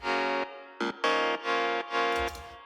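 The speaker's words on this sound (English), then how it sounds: "what really drives it is an electric piano with some quite harsh distortion" An electric piano with harsh distortion plays a series of chopped, sustained chords in a short rhythmic phrase, gritty and loud, with a brief noisy swell at the end.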